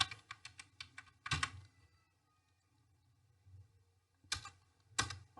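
Names being typed on a computer keyboard while setting up cost categories in Tally ERP 9: quick bursts of close key clicks, a pause, then a few more separate keystrokes, with no talking.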